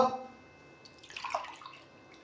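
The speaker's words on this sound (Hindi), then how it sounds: "मैं 4 गिलास पानी डालूंगा" Water poured from a glass into a cooking pot to make yakhni stock for matar pulao, a soft splashing pour that swells briefly in the middle and fades, with no one talking.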